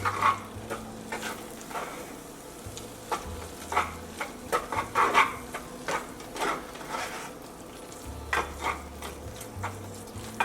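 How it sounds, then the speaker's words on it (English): A regular eating spoon scrapes and taps through a thick paste in a pan on medium heat, irregular stirring clinks and scrapes over a soft background sizzle, close and fairly quiet. "And just stir it here till you have a complete kind of a paste."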